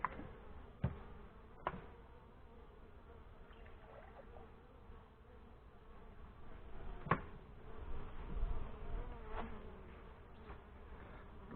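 Honey bees hum steadily around an open hive during a summer inspection as sugar water is fed in, a soft, continuous buzz with a few sharp knocks and clicks from the equipment, with no one talking.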